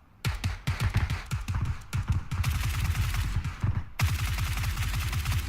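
Suppressed gunfire in a PUBG match comes in rapid bursts of muffled, clipped shots, some in quick automatic strings, with short pauses between bursts and no voices over them.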